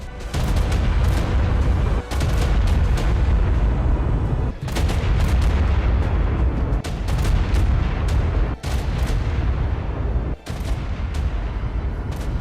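Chaos Bee explosions in the ARK Primal Fear video game, a loud continuous barrage of booming blasts and gunfire-like cracks with brief gaps between bursts.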